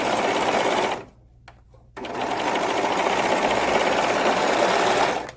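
A sewing machine stitches up the front of a girl's dress top, humming in a fast, steady run that breaks off for about a second, then carries on to the end.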